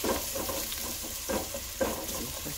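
Chopped onion fries in a pan as the base of a tomato sauce for entomatadas, a soft continuous sizzle broken by a few stirring scrapes and clinks.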